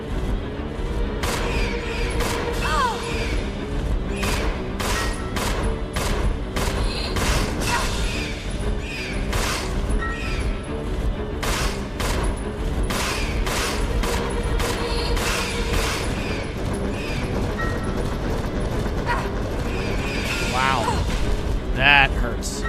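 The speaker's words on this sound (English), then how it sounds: "I'm trying to just shoot the bats." Gunshots fired at bats in Resident Evil 0 (2002), heard as a dense run of repeated sharp reports over a busy, loud game soundscape, with some talking mixed in.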